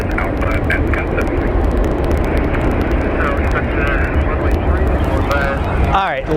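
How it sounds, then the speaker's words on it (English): An airliner lands at Phoenix Sky Harbor Airport with a loud, steady roar of engines and wind that fills the whole stretch, while voices talk over it. "I can see a plane coming in for a landing."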